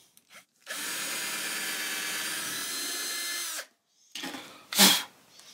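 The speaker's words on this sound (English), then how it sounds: "we're going to bury the head of this Forstner bit into the neck" A power drill spins a Forstner bit into the wooden neck of a Kay Old Kraftsman single-cutaway archtop guitar, grinding steadily for about three seconds, then stopping, followed by a few short bursts of handling and a brief louder whir.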